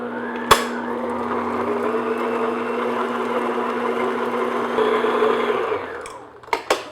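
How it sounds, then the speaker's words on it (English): An electric mixer beating honey into oatmeal cookie dough, a steady close whirring hum lasting several seconds, then stopping with a couple of knocks against the bowl. "So I'm just going to beat that in."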